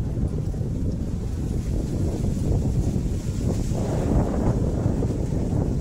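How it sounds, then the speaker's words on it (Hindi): Strong wind buffets the microphone in a steady low roar, gusting louder near the end, with no voices. "अभी बहुत विंडी है, बहुत तेज़ हवा चल रही है।"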